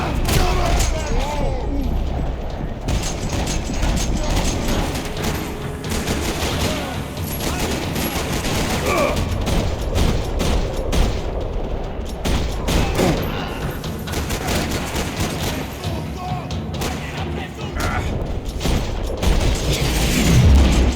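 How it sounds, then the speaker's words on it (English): Sustained gunfire rattling through a parking lot in the Max Payne 3 video game, with dense bursts and booming shots continuing loudly for the whole stretch alongside game sound. "Another parking lot rattling with gunfire."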